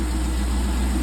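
A repaired C5 Corvette engine idles steadily after an oil pan gasket replacement, a loud, close, even low rumble with no talk over it.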